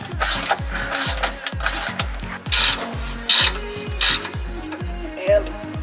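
A hand ratchet clicks in quick repeated strokes while tightening a nut on a Nissan 350Z rear suspension arm, each pull a loud close burst of pawl clatter in a steady rhythm.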